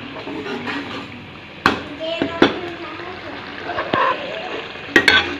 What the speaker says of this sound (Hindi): तो ये मसाला हमारा अच्छी तरह से भून चुका है